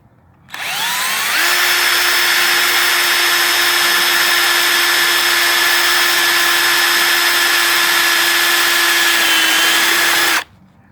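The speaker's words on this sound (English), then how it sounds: "let's start drilling this other side" A power drill bores into the case of a Porsche 914 Type 4 engine, running at a loud, steady high-pitched whine for about ten seconds before stopping abruptly.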